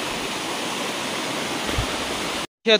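Ashokjhar waterfall in Jajpur, a steady dense rush of falling water, loud and continuous, then cut off abruptly near the end by a brief burst of other sound.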